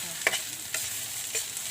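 Food is stirred in a hot pan, with soft sizzling throughout and three brief scraping strokes of the utensil spaced about half a second apart, close and quiet.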